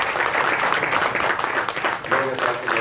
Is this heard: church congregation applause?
yes